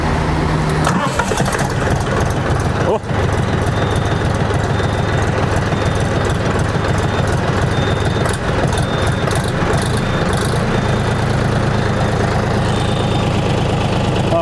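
A DTZ 354U tractor's diesel engine runs steadily and loudly up close, a constant low rumble throughout with a brief knock near the start, no voices over it.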